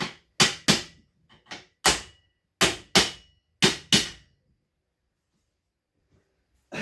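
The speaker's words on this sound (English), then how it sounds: "Hammer them down a little better." Plastic mallet hammering heavy-duty metal storage shelf parts together, sharp loud knocks in an uneven run of about eight blows with short gaps, then a quiet pause and one more strike at the end.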